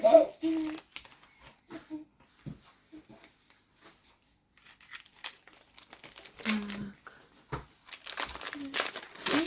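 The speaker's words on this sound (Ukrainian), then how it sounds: "відкриємо ці коробочки" Cosmetic boxes are opened with scissors, producing intermittent crinkling and rustling of packaging that grows busier toward the end, with brief speech-like voice sounds nearby.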